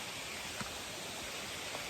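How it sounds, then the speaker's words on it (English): A distant waterfall along the Old Loggers Path in Pennsylvania woods gives off a steady, faint broadband rush with no clear breaks, heard alone with no talking. "there's a waterfall down there"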